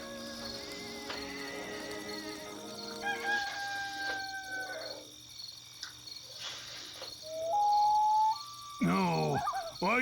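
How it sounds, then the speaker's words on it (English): A rooster crows in a Black & White 2 village scene, its rising calls standing out over a steady bed of chirping crickets and insect noise, with a sharper, louder crow near the end. "This rooster wakes me up every single day."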